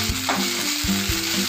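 Ground dry coconut masala paste stirred and fried in oil in a pan for Maharashtrian chicken curry, a brief close burst of sizzling with scraping strokes of a spoon, no voices.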